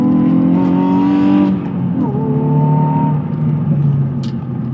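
Hyundai i20N hot hatch engine droning while driving, a steady buzzy tone that dips as the revs drop partway through and then holds at a lower cruising pitch, loud and close with no talk.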